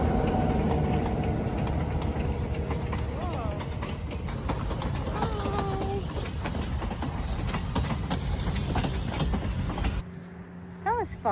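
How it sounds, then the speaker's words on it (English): A train rumbles past at a distance with clattering, clicking wheel noise, while people talk over it and a horse-like clip-clop is mixed in before the sound drops off near the end. "it's a train."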